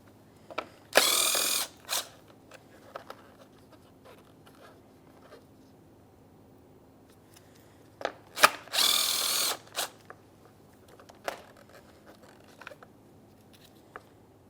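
A power drill spins out the two 10mm mounting bolts of a Mazda 3 license plate bracket, two loud bursts of a few seconds each, with quiet clicks and handling noises between them.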